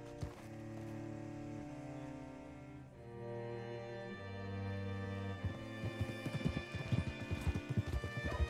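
Horse hooves in Red Dead Redemption 2 clip-clop steadily over a bed of music, the footfalls growing louder and more distinct toward the end, with a brief whinny.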